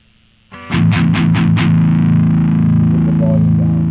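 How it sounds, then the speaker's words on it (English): Electric guitar with heavy distortion strikes a few rapid palm-muted chugs, then rings out into a loud, sustained distorted chord that holds steady to the end. "I want a little bit more distortion so we can get that chugga chugga sound"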